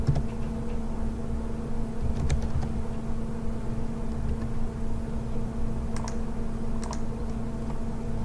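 Computer keyboard keys typed in short, scattered bursts of clicks, fairly close, with a steady background hum and no talking.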